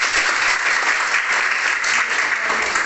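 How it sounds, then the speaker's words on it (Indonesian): A classroom group claps for discussion group 1 after its presentation, a steady, dense round of applause from many hands that holds at an even level throughout, with no voices over it. "kita berikan aplaus dulu kepada kelompok 1"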